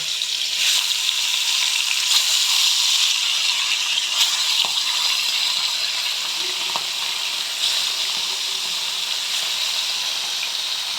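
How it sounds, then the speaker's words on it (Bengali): Marinated bata fish frying in hot oil in a wok, giving a steady, loud, close sizzle with a bright crackling hiss that runs unbroken through the whole stretch. "এইভাবে মাছগুলো আমি ভেজে নেব"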